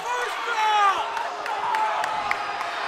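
Crowd noise in a high school gym during a boys varsity basketball game after a dunk, a steady murmur with scattered cheers, whistles and sneaker squeaks, with a commentator talking over it.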